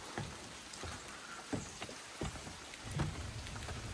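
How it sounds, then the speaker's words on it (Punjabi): Rain falling in a forest in France, steady patter with scattered drops and taps on nearby surfaces, close and moderately loud. "ਹਜੇ ਤੱਕ ਦੀ ਬਾਰਿਸ਼ ਹਟੀ ਨਹੀਂ ਹੈਗੀ ਬਿਲਕੁਲ"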